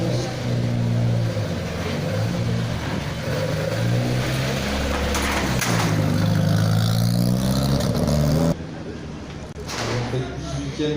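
Porsche 911 race car engine at a motorsport event in Autun, roaring loudly and steadily with rising pitch, then dropping abruptly near the end, heard together with crowd noise and an announcer's voice.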